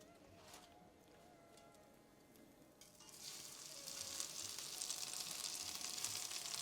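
Coated chicken pieces frying in a hot pan for a tomato pasta dish, giving a soft sizzle that swells into a louder, steady crackle partway through, with no talk over it.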